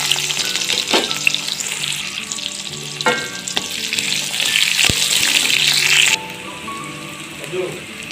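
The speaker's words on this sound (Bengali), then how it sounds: "তেল গরম হয়ে গেছে, এবার দিয়ে দিলাম পেঁয়াজ কুচি।" Loud, steady sizzling of onions frying in hot oil, with a few scraping stirs and clanks, the hiss cutting off sharply near the end.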